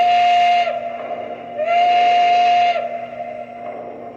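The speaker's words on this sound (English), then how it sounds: "The whistle is awesome and sounds like what we've come to know and love on a Norfolk and Western" American Flyer Legacy PRR HH1 Mallet model locomotive steam whistle, two long loud blasts with a brief gap and a softer trailing tail, steady tonal chime over a faint constant hum.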